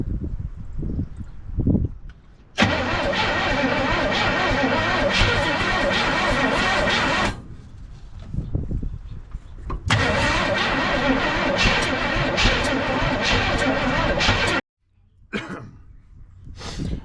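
A 1968 Chevy C10 engine, seized for 29 years and freed with a pry bar, cranks and catches in two long loud roaring bursts separated by quieter gaps, close up and with no talk.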